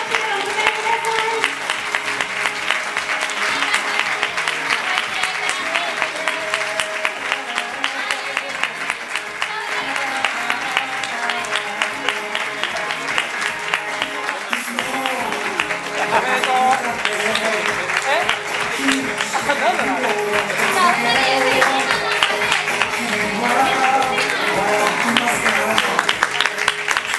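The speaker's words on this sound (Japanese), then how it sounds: "どうぞ大きな拍手でお迎えください" Wedding reception guests applaud steadily as the couple makes their entrance, a dense, continuous wash of clapping filling the room for the whole stretch, with background music and crowd murmur underneath.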